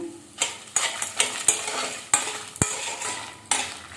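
Red chillies, garlic and tamarind dry-roast in a pan, stirred with quick, rhythmic scraping strokes about every half second over a light crackling sizzle.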